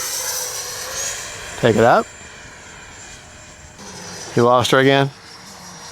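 Freewing 80mm T-33 Shooting Star RC jet flying overhead, a steady ducted-fan whine and rush running continuously, with two short bursts of people talking over it.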